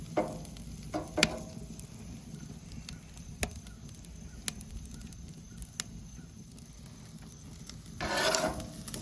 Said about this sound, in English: There's nothing like listening to burgers or meat sizzle.